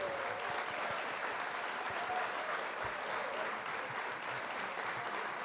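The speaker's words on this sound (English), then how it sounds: "Here's a big applause for you." Steady applause from many hands, a dense continuous patter of clapping at moderate level with no break across the whole stretch.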